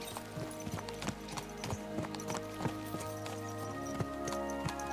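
Horse hooves clip-clop in a steady, rapid rhythm as horses gallop through Kingdom Come Deliverance II, with several animals' footfalls overlapping, close and continuous with no voices.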